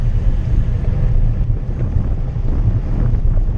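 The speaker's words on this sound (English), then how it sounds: "we turned right into the headwind" A strong headwind blows during a bike race on an outdoor course, producing steady, loud, low rumbling wind buffeting against the microphone with no pauses.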